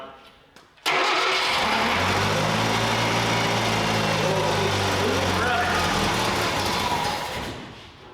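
A rebuilt Datsun 520 engine cranks briefly and then catches, settling into a loud, steady idle with a rough, throbbing low rumble that holds close by for several seconds before easing slightly at the end.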